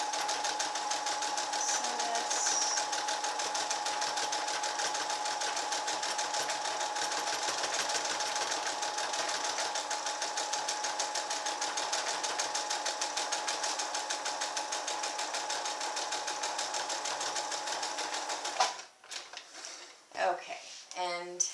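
A sewing machine runs steadily for a long stretch, stitching a crazy quilt patch with a constant whirring hum, then stops, leaving a few clicks and handling noises.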